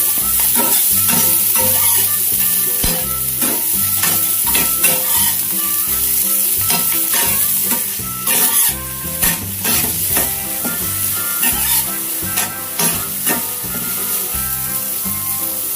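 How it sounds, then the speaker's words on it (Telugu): Thin slices of peeled ridge gourd, half a kilo, fry and sizzle loudly in a pan with steady hissing, punctuated by repeated scraping stirs, no voices. "తర్వాత బాగా కడిగి పొట్టు తీసుకున్న 1/2 కిలో బీరకాయ సన్నటి ముక్కలు యాడ్ చేసుకొని ఓ నిమిషం పాటు వేయించుకోవాలి."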